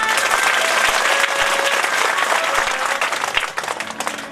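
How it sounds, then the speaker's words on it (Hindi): Loud, sustained applause from an audience at a Bhagwat katha gathering, dense clapping filling the room for about three seconds before thinning into scattered claps toward the end. "मेरे भैयाओं के लिए ताली बजा दें आप।"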